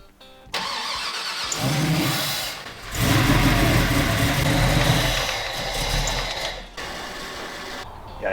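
A Firebird's supercharged 408 Whipple engine cranks and catches, then runs rough with loud uneven revving surges and dips before cutting out briefly and firing again, close and dominant with no voices.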